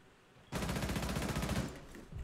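Rapid automatic weapon fire in Rainbow Six Siege, a single dense burst of closely spaced shots that starts abruptly and runs for about a second and a half before cutting off.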